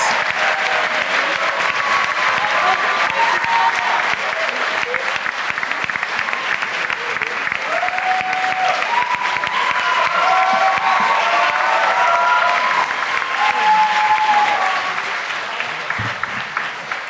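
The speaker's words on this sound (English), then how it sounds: "a big round of applause for the runners-up" Loud, dense applause from an audience at an entrepreneurship pitch competition, sustained steadily for many seconds before easing slightly near the end.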